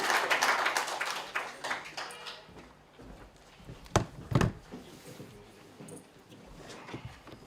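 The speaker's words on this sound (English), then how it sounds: "So let's put our hands together." Applause from an audience at a book or talent launch event, a dense burst of clapping that thins out into scattered claps and a few louder knocks, heard from the room at moderate volume.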